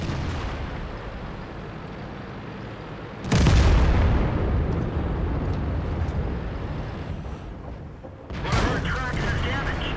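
Two heavy tank cannon shots of gold ammunition in World of Tanks, aimed at a Carnarvon during a battle as an IS-6 Soviet heavy tank; each loud broadband blast rumbles and decays over a steady battle-noise bed, with game commentary talk running throughout.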